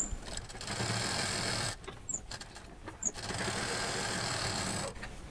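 A sewing machine stitches along a double-folded 5.5-inch edge of a fabric lining piece for a patchwork sling bag, running in steady bursts with brief pauses between them, close and alone.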